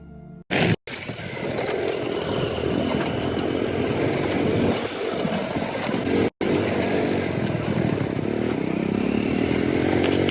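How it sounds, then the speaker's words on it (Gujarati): A motorcycle runs on a village road with a steady, loud engine drone for about ten seconds, broken by a couple of brief cuts, and rough wind noise over it. "ફાઇનલી ગાઈસ આપણે નાખી જા બાઇક બહાર"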